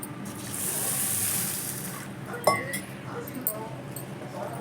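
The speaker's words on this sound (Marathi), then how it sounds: "एक वाटी बासमती तांदूळ घेतला आहे दोन पाण्याने धुवून घ्यायचा" Water swishing in a bowl with light clinks as basmati rice is rinsed by hand, close up, with a soft hiss throughout.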